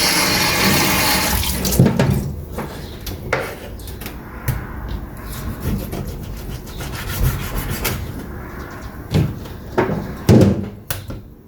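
Food rinsed under a running tap at a kitchen sink in Japan, steady splashing water with rubbing, knocks and clatters of handling, close by and without talk.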